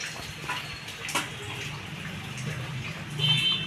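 Tap water running over chopped vegetables being washed before cooking khichdi, a soft steady stream with light splashes and a brief clatter, fairly quiet.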